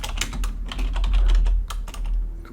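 Steady, quick typing on a computer keyboard while coding, with close, crisp key clicks in an uneven rhythm and no talking over it.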